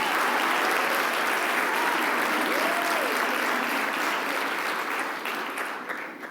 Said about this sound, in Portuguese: Vamos dar um forte aplauso pela vida dos nossos pastores.